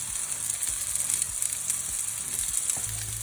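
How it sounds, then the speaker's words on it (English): Zucchini and broccoli searing in a hot pan with translucent onions, a steady bright sizzle up close with occasional stirring clinks and scrapes underneath. "now once your onions are nice and translucent, at that point you can add your zucchini and sear them off."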